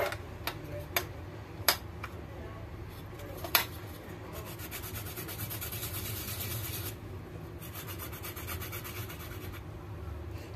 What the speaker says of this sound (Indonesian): ini ada dua siung bawang putih sama jahe yang mau saya parut ya teman-teman. Sekarang saya parut dulu.